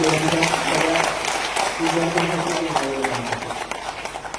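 A crowd claps steadily in sustained applause at a political party workers' rally, with voices audible underneath.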